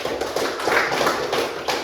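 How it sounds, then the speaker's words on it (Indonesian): A seventh-grade class clapping together in a school classroom; a short, fairly close burst of quick, uneven hand claps with no talking. "tepuk tangan dulu untuk kelas 7 pagi ini."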